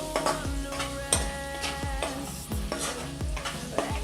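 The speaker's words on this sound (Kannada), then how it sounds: "ಇವಾಗ ಇದನ್ನು ಚೆನ್ನಾಗಿ ಹುರ್ಕೊಳ್ಳೋಣ ಸ್ವಲ್ಪ ಆಲೂಗಡ್ಡೆ ಎಲ್ಲ ಸ್ವಲ್ಪ ಕಡಕ್ಕಾಗಬೇಕು" Baby potatoes fry with chili powder in a pan on a gas stove and are stirred briskly. Steady sizzling runs under a regular series of sharp spatula knocks and scrapes against the pan, close and loud.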